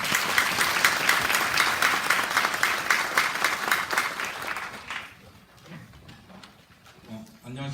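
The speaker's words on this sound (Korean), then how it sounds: "한참 박수 부탁드립니다." Applause from the audience at a public hearing on emergency medical technicians' duties welcomes the head of the Korean EMT association. It is dense and steady for about five seconds, then thins into scattered claps and room noise.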